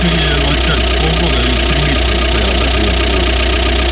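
An old UAZ Bukhanka van engine idles steadily just after starting from long storage, a loud continuous low rumble with a knocking, vibrating mechanical character throughout.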